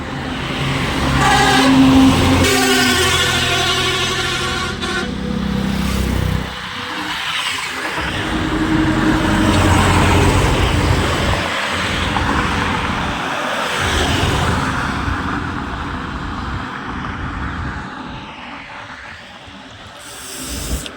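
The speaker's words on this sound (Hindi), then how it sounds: "गाड़ी आ रही है कुंभ मेले से।" A truck on a road near a forest rumbles loudly as vehicles approach and pass, with engine drone, revving swells and passing whooshes continuing throughout, and no talking over it.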